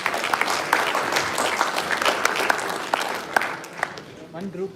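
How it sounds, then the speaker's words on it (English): An audience at a summit panel applauds, the dense clapping steady and fairly loud for several seconds before thinning toward the end, with a voice briefly audible under it. "but I'll settle for applause"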